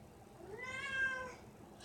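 A cat gives one drawn-out, rising-then-falling meow at close range, indoors, with no talking over it.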